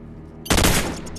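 Gunfire in Call of Duty 4 during a Search and Destroy match: after a quiet lead-in comes a sudden loud, close burst of rapid automatic shots that trails off within a second.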